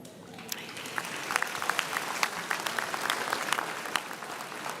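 Audience applauding graduates in a university hall at a campus graduation ceremony, a steady wash of many hands clapping with sharp individual claps standing out, moderately loud and sustained with no talking.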